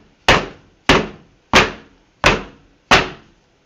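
A soap mold for a bourbon and cherries cold process soap is tapped down on a table five times at an even pace, each a sharp, loud knock with a short decay and quiet gaps between.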